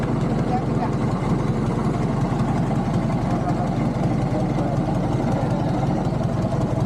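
A boat engine idles with a steady low rumble and throb, running continuously at an even level throughout.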